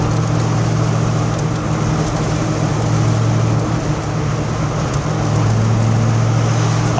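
A 1988 Ford Mustang GT cruising in fifth gear at about 50 mph, just under 2,000 RPM, gives a steady low engine drone under continuous road and tyre noise from inside the car, with no talking.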